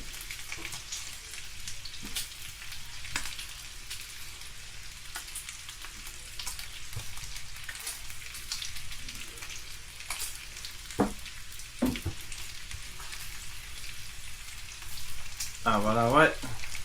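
Eggs frying in a pan for breakfast burritos, a continuous crackling sizzle with scattered pops, close and steady, with a short bit of talk near the end.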